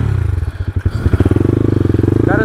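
A motorcycle engine revs loud and close, pulsing and chugging unevenly as it labors over rough ground, with some clattering.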